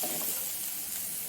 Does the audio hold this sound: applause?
no